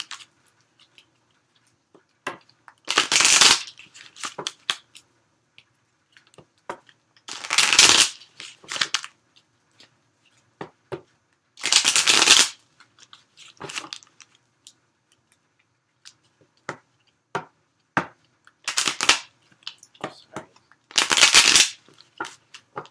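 A deck of cards is riffle-shuffled five times, each a brisk fluttering burst separated by quiet pauses filled with light taps and handling sounds.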